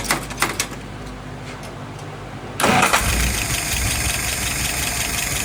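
A carbureted engine on a metal shaper cranks briefly and catches, then settles into a steady close idle with a rough, knocking edge, following a few light clicks and handling noises.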